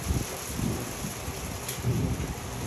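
Gusty wind buffets the microphone with low rumbling roars, steady and close, with no voices.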